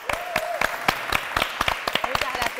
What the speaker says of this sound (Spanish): Los despedimos a Pablo con un fuerte aplauso